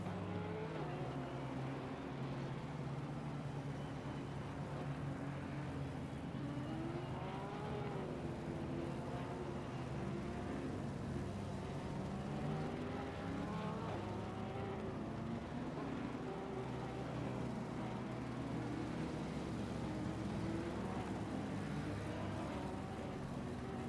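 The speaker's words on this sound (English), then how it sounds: "as we get this formation lap kicked off for today's 30-minute race at Zandvoort" Race cars in Assetto Corsa Competizione roll around Zandvoort on a formation lap before a 30-minute race, a steady layered engine drone with shifting pitch as several cars cruise together, continuous throughout.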